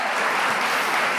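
A church congregation claps loudly and continuously during a worship service, a brief unbroken wash of many hands filling the room.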